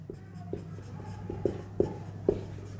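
Chalk or marker writing on a classroom board during a Kirchhoff's law lesson, with a series of sharp taps and scratchy strokes against a steady low hum.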